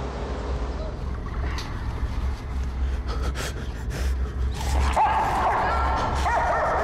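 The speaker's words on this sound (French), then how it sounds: "Ils ont lâché les chiens." Hunting dogs let loose outdoors, yipping and barking excitedly amid a dense, noisy background, with gasping and whimpering sounds mixed into a continuous rough wash.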